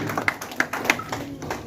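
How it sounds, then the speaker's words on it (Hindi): A seminar crowd at a Sindhi community legal-guidance event gives a short round of clapping, a few distinct claps rising from a thin patter, with faint voices beneath. "जोरदार तालियां होनी चाहिए।"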